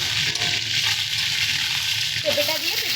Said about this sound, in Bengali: পেঁপেটাকে একটু হালকা করে ভেজে নেব